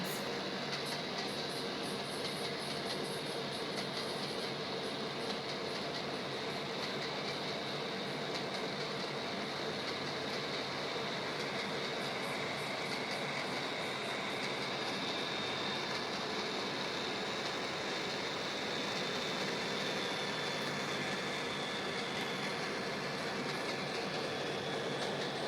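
BNSF train powered by CF7 diesel locomotives, with a PRR passenger car at the front, rolling past on the Chicago to New York line: a loud, steady, broadband rumble and rail clatter that holds for the whole stretch, with no voices.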